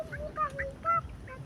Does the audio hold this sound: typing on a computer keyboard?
no